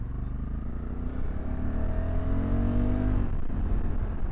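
Honda CRF1100 Africa Twin Adventure Sports DCT motorcycle riding in fourth gear, its engine a steady loud drone with rising tones, then dropping off near the end.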